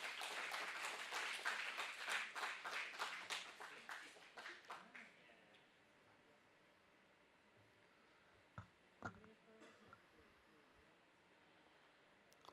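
Audience applause at a sustainable business forum event in the Asia and Oceania region, a burst of clapping that builds and then fades out over a few seconds, followed by quieter scattered taps.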